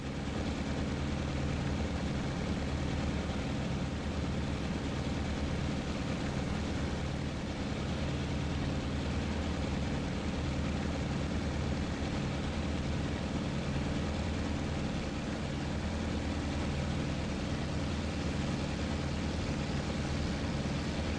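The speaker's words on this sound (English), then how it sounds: "that dive bomber is kind of spooking me out a little bit" Steady drone of an aircraft engine from a dive bomber in the IL-2 Sturmovik flight sim, a continuous low heavy rumble holding at an even level throughout with no talk.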